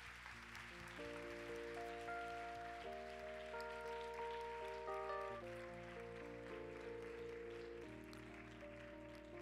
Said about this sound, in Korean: 다 함께 박수로 환영하겠습니다.